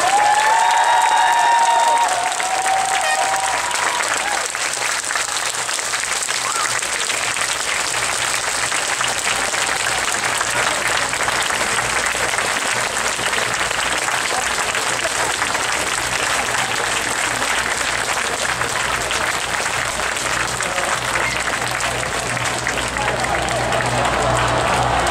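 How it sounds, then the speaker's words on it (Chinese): Sustained, dense applause from a large crowd at an outdoor memorial rally in Taipei's Ketagalan Boulevard, steady and loud throughout with crowd noise and a brief voice near the start. "请大家给他们掌声，谢谢他们来了。"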